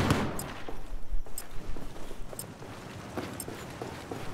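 Sniper and other gunfire in the video game Battlefield 4, a busy stream of sharp distant shots and bursts scattered through the whole stretch, with a few louder cracks standing out.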